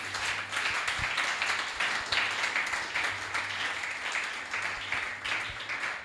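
Congregation at a church teaching session applauding and acclaiming the Lord, with steady broadband clapping and cheering voices sustained throughout, loud and close, over a low hum.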